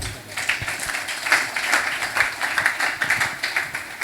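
Congregation at a church service clapping together, a dense, uneven patter of many hands that keeps going without pause.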